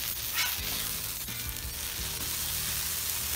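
A taco grilled cheese sandwich fries in a pan with a steady, moderately loud sizzle and scattered low knocks and pops, with no one speaking.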